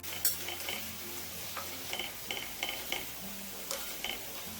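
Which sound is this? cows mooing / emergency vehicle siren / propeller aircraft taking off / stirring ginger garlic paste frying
stirring ginger garlic paste frying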